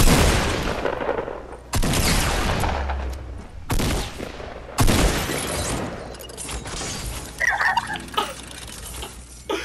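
Loud shotgun blasts in Fortnite at Tilted Towers, roughly four heavy booms spaced a second or two apart, each with a sharp attack and a long rumbling tail, followed by scattered smaller impacts and clatter.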